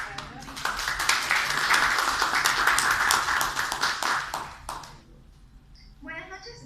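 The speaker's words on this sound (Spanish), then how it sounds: "Un aplauso para Verónica." Audience applause for Verónica at a PMP certification preparation session, a steady wash of clapping for about five seconds that then fades, with a voice starting to speak at the end.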